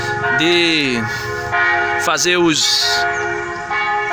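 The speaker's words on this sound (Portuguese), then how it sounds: "aqui ela badala o sino muitas vezes durante o dia" A parish church bell rings out over a town square, its tolling carried through open air with some distance, while a voice talks faintly underneath.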